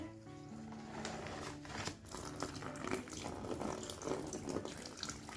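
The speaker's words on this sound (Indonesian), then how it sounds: "Sekarang kita siram togenya lagi ya" Water splashes and trickles steadily onto bean sprouts, a continuous close pour with small shifts in flow, no voices.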